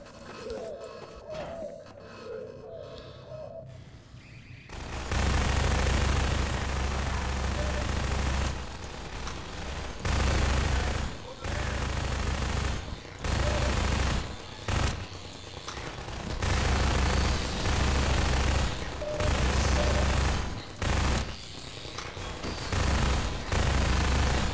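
Automated turrets fire in Half-Life 2 Episode 2. Loud sustained bursts of rapid fire repeat with short gaps, after a quieter opening with faint background sounds.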